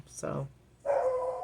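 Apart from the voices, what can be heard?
neighbor's dog howling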